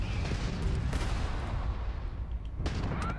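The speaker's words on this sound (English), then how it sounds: "Launch photon torpedoes." Photon torpedoes launching from a spaceship in Starfield during a space battle: dense, rumbling blasts and muffled booms roll together continuously, with a couple of sharper bright bursts standing out amid the din.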